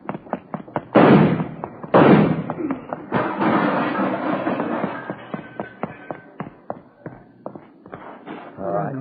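Gunshot sound effects in an old police radio drama: a rapid volley of sharp reports and knocks, two heavy booming blasts near the start, then dense crackling shots and scattered taps fading out.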